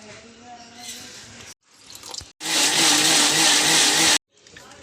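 Roasted sambar masala being ground in a kitchen mixer: loud whirring bursts of the blender, stopping and restarting with short pauses, a long full-power run in the middle.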